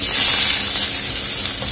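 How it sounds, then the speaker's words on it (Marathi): Onion and crushed garlic cloves sizzle in hot oil in a pan, a steady close, loud frying hiss with a faint stirring texture throughout. "मी ते 2 लसणाच्या पाकळ्या ठेचून घालते आणि लगेचच आपल्याला हा कांदा घालायचा आहे।"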